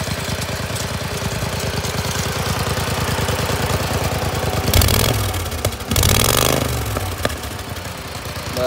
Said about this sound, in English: this is my mud mower